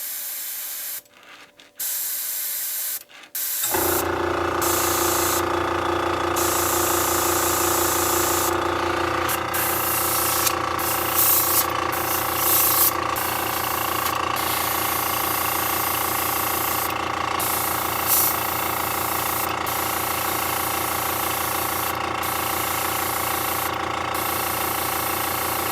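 An airbrush gun spraying paint for lure building gives a steady, close hiss lasting over twenty seconds, with a compressor humming underneath after a few brief clicks at the start.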